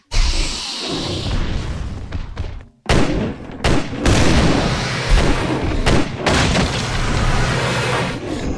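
Gunfire in the survival horror video game ObsCure 2, a series of loud, booming shots and thuds with sharp breaks between them, set against dense game noise and no talking.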